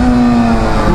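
A Honda Hornet motorcycle with no catalytic converter holds a loud, close, droning engine note for a brief moment, with a rough, buzzing exhaust tone that shifts slightly in pitch.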